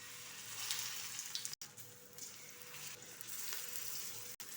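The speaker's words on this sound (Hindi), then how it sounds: "इसको जो है हम घी में डाल देंगे फ्राई होने के लिए।" Aloo tikki coated lightly in besan frying in ghee, a soft, even, continuous sizzle heard from close by with faint crackles and two brief dropouts.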